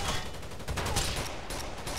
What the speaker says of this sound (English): It sounds like a BB gun.